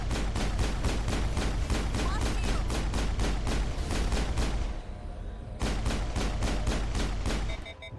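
Rapid pistol fire in Mass Effect, a steady string of sharp evenly spaced shots for several seconds, a brief pause, then another burst of repeated shots, loud and close.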